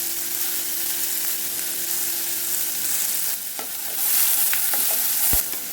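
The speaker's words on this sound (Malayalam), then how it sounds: "ഇതിലേക്ക് 2 സവാള പൊടിയായിരുന്നു, കുറച്ച് വെളുത്തുള്ളി പൊടിയായിരുന്നു ചേർത്ത് ഒന്ന് വഴറ്റിയെടുക്കാം." Chopped onions and garlic sauté in hot oil in a pan, a loud, steady sizzle that runs throughout, with a few clinks of a spoon stirring near the end.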